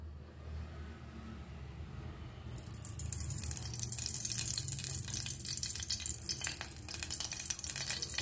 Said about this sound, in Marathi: कुकर गरम झाला आहे आपला, तेल टाकून घेऊ।